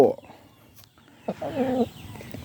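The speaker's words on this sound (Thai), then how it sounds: "ลูกสาวทองคำเป็นไก่ค่อนข้างครบเครื่องนะครับ" A Burmese-colored fighting rooster gives a sharp cluck, then after a short pause a longer run of close, throaty clucks, with quiet background noise between.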